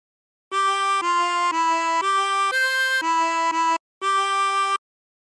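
A 24-hole tremolo harmonica plays a short phrase of The Yellow Rose of Texas, a string of sustained wavering blown notes stepping between pitches, clear and close, with a brief gap before the final note.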